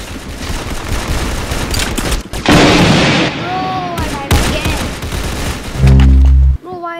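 A new gun in the Roblox Arsenal video game fires in loud, dense bursts of gunfire across the clip, with a voice heard and game tones near the end.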